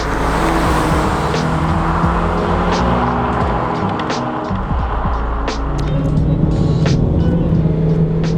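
A Renault Clio RS with a manual gearbox and a naturally aspirated engine drives along, its steady engine and road roar filling the cabin continuously with scattered clicks and knocks throughout.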